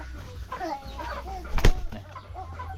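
Chickens clucking on a small egg farm, some birds noted as sick, with scattered short clucks and calls, near and moderate in loudness, plus a sharp brief bump midway.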